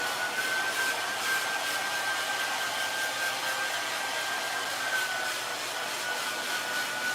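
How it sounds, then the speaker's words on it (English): Steady close whoosh of a hair dryer blowing continuously while someone blow dries hair indoors, with a faint thin whine running through it. "Virginia's blow drying right now"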